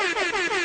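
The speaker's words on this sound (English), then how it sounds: "You get air horns." A short, loud air horn blast with a bright, brassy tone holds steady for under a second, alone with no talking over it.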